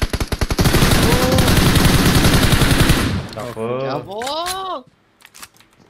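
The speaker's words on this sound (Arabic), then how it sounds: "ثمان طلقات على الطول واحد شالهم" Rapid automatic gunfire from the mobile battle-royale game PUBG Mobile, a loud sustained burst of shots lasting about three seconds before excited voices talk over the fading end.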